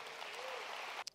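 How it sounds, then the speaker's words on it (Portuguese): A church congregation claps together in steady, dense applause that fills the space, then breaks off abruptly near the end, leaving a couple of faint scattered claps. "Você pode aplaudir ao Senhor?"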